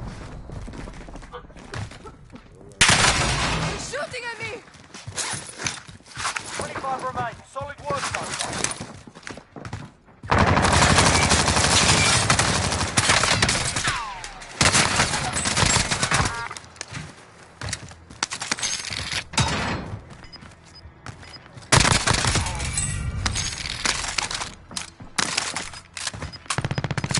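Gunfire in Call of Duty: Warzone, loud dense bursts and repeated shots arriving in several clusters over a busy, noisy game mix.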